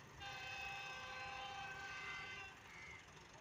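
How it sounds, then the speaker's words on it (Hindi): Goods train with a locomotive and 41 wagons approaching Sanawan station, faint and distant, a sustained multi-tone horn sounding for a couple of seconds over low rumbling rail noise. "आप दाऊद खेल कोल स्पेशल गुड्स ट्रेन पहुंच रही है सनावा"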